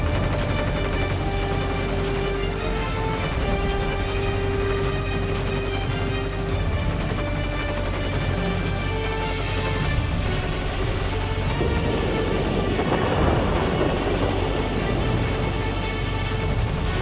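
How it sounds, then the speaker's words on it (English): A heavy storm in the Warplanes combat flight game, with steady dense rain noise and rumbling thunder building toward the end, loud and continuous alongside engine drone and no talk. "The storm is too heavy."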